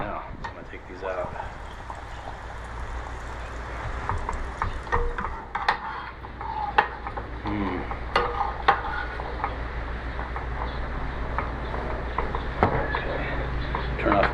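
Fried smelt are lifted from hot frying oil, which keeps bubbling and crackling softly under sharp metallic clicks and taps of a utensil against the pot.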